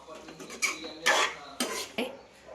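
A spoon stirs and scrapes through curry leaf chicken fry in a metal pan after chilli powder and salt have gone in. Several distinct clanks and scrapes come in uneven bursts, close and fairly loud.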